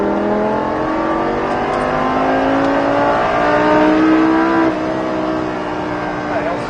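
A Lamborghini Gallardo LP 560-4 accelerates on a track, its engine note climbing through gears from inside the cabin, loud and continuous with a brief shift dip, while people talk over it.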